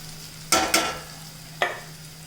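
Tomatoes go into hot oil with fried onion, shallot and ginger paste, making two quick bursts of sizzle and a third a moment later over a quiet, steady hum.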